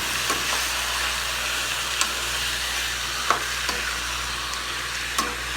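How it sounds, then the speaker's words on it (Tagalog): Garlic and onion gently sauté in a pan for chicken cooked in coconut milk, a soft steady sizzle with a low hum beneath and a few sharp clinks of a utensil stirring against the pan. "Siyempre pag yan, haluin nyo yan."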